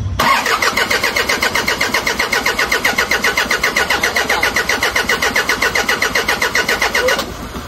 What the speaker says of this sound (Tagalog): try natin i-off yung engine tapos i-start ulit